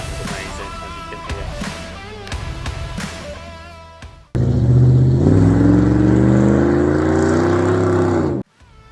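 A 2003 Dodge Ram 1500's 5.7-litre Hemi V8 roars to life and revs hard through a new MBRP exhaust, the pitch climbing and holding steady; the first half is quieter, mixed background sound.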